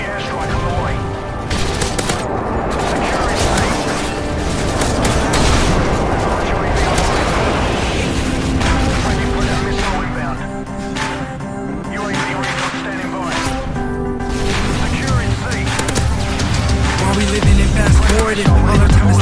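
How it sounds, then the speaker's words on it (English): Call of Duty Modern Warfare 3 gameplay with a friendly airstrike: dense, continuous gunfire and heavy explosion booms rolling steadily throughout, loud and close, under game music and voice effects. "Friendly airstrike on the way."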